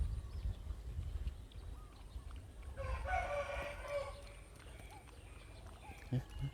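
Birds call intermittently over an outdoor background, with a burst of chirping in the middle and a few scattered calls later; voices are heard at times.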